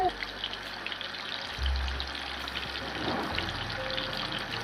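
Tuna fish pieces frying in oil, a soft bubbling sizzle with a low rumble midway, close and moderately quiet, with faint voices in the background.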